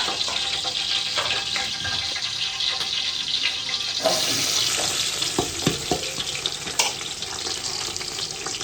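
Loud, steady sizzling of onions frying in hot oil for a tadka, crackling and spitting, with a few clanks and stirring noises in the second half.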